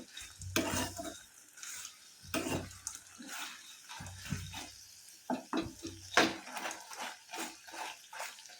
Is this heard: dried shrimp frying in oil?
yes